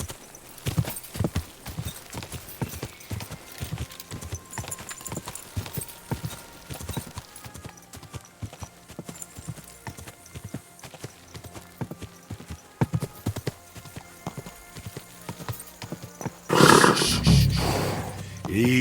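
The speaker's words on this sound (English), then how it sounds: "Easy, good horse." Horse hooves clip-clop steadily on hard ground, a rhythmic series of close knocks, followed near the end by a loud burst of noise; a voice is briefly heard.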